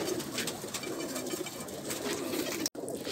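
Pigeons kept by a pigeon fancier coo softly in a steady background murmur, several birds close by with a brief dropout near the end, no voices.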